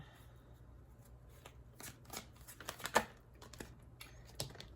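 Tarot cards being shuffled and drawn during a reading, soft close riffles and flicking slaps of cards in an uneven run, with one crisper snap near the middle, over a faint low hum.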